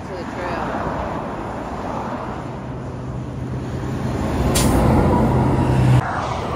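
Trucks and buses roll past on a busy highway crossing near Camp Blanding in Florida, a steady heavy road roar that swells as a vehicle comes close, with a sharp hiss of air brakes.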